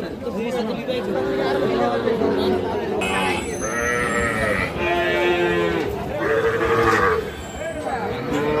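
Cattle at a busy livestock market at Ambari haat where Sahiwal bull calves are sold. Constant crowd chatter and people talking nearby, with animal calls rising intermittently through the noise.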